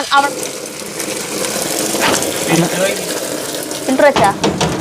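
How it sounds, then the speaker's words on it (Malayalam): Tap water runs and splashes into an aquarium being set up with stones, a steady rushing wash with clattering bursts, and voices talk over it. "വെള്ളം തുറക്കണോ?"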